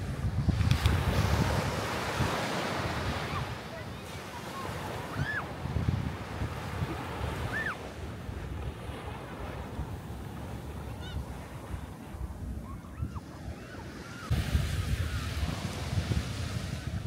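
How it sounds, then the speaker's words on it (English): Surf rolls onto Mawun Beach on Lombok Island in Indonesia, a steady wash of breaking waves mixed with gusty wind buffeting the microphone, with brief faint tonal chirps in the distance. "this is the second beach on the Lombok Island, and it's a beautiful beach, Mawun Beach."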